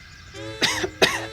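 Two sharp coughs in quick succession, close and fairly loud, over a soft background tone.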